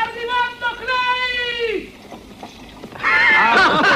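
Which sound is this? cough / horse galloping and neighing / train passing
horse galloping and neighing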